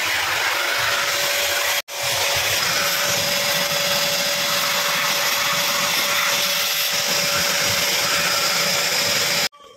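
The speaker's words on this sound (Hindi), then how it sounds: "तो अब वैक्यूम को आपने बाहर निकाल लेना है।" A vacuum cleaner runs steadily while a car interior is cleaned, a loud continuous whining drone with a brief cutoff near the start and again at the end.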